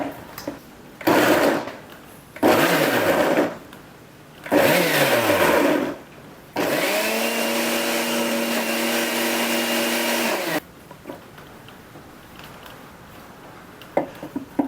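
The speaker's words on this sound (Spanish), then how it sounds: "Y pasamos a la procesadora." A food processor blends garlic and olive oil into a paste in three short whirring pulses, then one longer steady motor run with a rising whine, before stopping into quiet.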